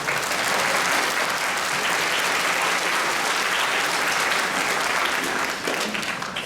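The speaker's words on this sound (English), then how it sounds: "Round of applause, please, for yourself." An audience at a school spring music concert applauds, dense and continuous clapping from many hands that holds steady for several seconds before easing slightly at the end.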